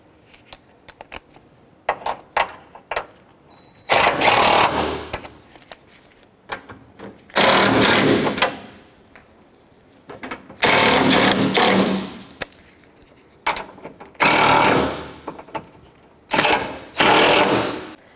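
A power tool tightens bolts on a 1997-04 Dodge Dakota radiator in a series of loud, close whirring bursts with pauses between them, preceded by a few quick clicks.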